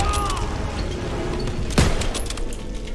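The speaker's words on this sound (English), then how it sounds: "They're shooting at me horribly." Gunfire in Call of Duty: WWII aimed at the player, with a rattling background fusillade and one sharp, loud shot near the middle, and no speech.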